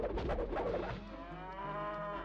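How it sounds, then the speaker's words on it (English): Cattle lowing in the Xena: Warrior Princess PS1 game, one drawn-out moo that starts rough and then settles into a sustained, tonal bellow, heard clearly with no talk over it. "They moo."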